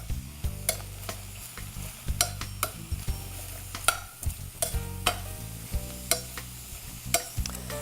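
Sliced portobello mushrooms sear in a hot pan with a steady close sizzle, punctuated by repeated scraping stirs and utensil clinks throughout, with no voices.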